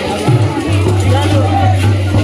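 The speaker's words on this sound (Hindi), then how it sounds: "बहुत भीड़ है" A crowd at a village Rath Yatra festival in Raigarh, a dense, loud hubbub of voices, with a steady low drone running underneath.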